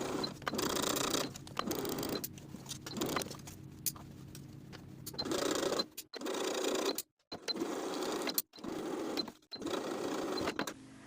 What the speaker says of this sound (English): Sew the facing to the neckline all the way around with a 3/8 inch seam allowance.